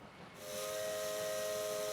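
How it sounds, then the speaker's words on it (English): A steam locomotive whistle from the video game Maitetsu shrieks as a loud, steady sustained tone with a hissing steam edge, starting after a brief quiet moment and holding to the end. "I sound the steam whistle in an attempt to silence the rain splattering against the scars of my memories."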